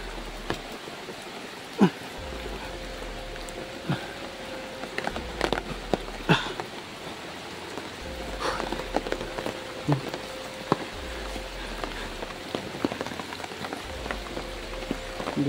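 Rain patters steadily on a slippery mountain trail, a soft continuous hiss broken by scattered drops and occasional footfalls nearby.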